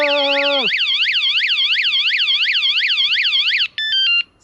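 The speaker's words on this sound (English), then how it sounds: "I activated the alarm." A Lynx electric unicycle's alarm goes off loud and close: a rising tone gives way to a rapid warbling siren, then a few harsh beeping pulses.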